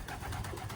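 White homing pigeons coo softly in a short, steady murmur of low throaty notes, close by and alone without any talk.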